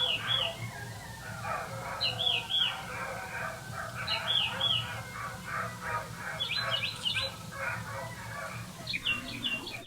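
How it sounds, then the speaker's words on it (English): At night, birds chirp in short repeated bursts while dogs bark faintly in the distance, all quiet and far off. "You could hear coyotes and dogs in the background."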